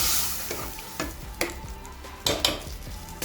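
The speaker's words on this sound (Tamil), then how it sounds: "லைட்டாக கிண்டி மட்டும் விட்டுருங்க." Hotel-style sambar with cooked dal and vegetables gently stirred in a pot, a bubbling simmer under several distinct spoon strokes and knocks against the vessel, close and clear, no talking.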